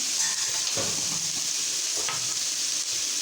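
Chilli powder is stirred into a sizzling pan for a village-style radish mutton curry, with a steady frying hiss throughout and a couple of soft scraping strokes of the spoon.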